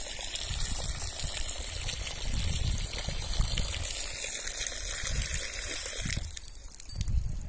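Natural spring water gushes and splashes steadily, a loud, continuous rushing flow close by with no voices over it.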